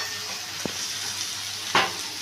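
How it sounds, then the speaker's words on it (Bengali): Bottle gourd and prawn curry being stirred in a frying pan, a steady close sizzle of frying with two short scraping knocks of a utensil against the pan. "এবার আমি ভালো করে একটু নাড়িয়ে নিচ্ছি"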